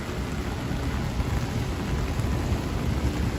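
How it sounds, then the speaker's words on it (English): Steady rain falling in Manhattan, New York City, during an evening storm: a dense, even hiss of heavy rainfall with a low rumbling undertone, continuous and fairly loud throughout. "it just started raining, and it's supposed to rain all night"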